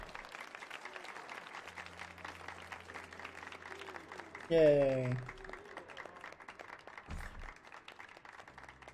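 Crowd applause from video game characters in Final Fantasy XIV, a steady patter of clapping under background music, with a brief cheer and a voice talking over it.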